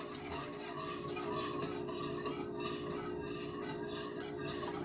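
Steady stirring of sweetened condensed milk in a pan on medium heat, a continuous soft scraping and swishing that runs on without a break at low volume, with faint utensil clinks underneath.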